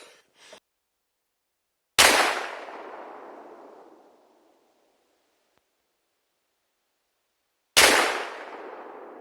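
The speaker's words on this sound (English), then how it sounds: "I was shooting offhand, so I didn't really get a good shot." Two loud, close gunshots from a Baikal MP-221 double rifle in 45-70, fired a few seconds apart outdoors, each a sharp crack followed by a long rolling echo that fades slowly to silence.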